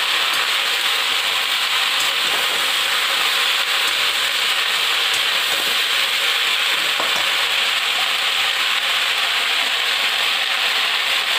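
Red amaranth greens frying in hot oil in a pan, a steady close sizzle with faint stirring scrapes throughout, no voices.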